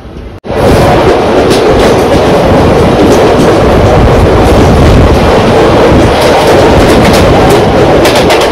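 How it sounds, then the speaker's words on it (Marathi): A Bandra–Vapi Express train departing Vasai Road station rumbles loudly and steadily with rhythmic clickety-clack of wheels on rails, a constant close roar from start to finish. "वसई रोड स्टेशनला थोडा टाइम थांबून ट्रेन आता लगेचच निघाली आहे इथून."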